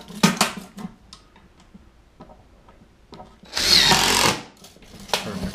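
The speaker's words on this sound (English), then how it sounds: "And then I just put screws all the way down." A power drill drives a screw into a wooden beehive bottom board in one loud, whirring burst lasting about a second, with light knocks of wood and handling before and after.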